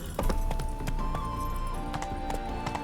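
Horse hooves gallop in a fast, steady clip-clop in The Witcher 3, with game music underneath; the hoofbeats are close and moderately loud throughout.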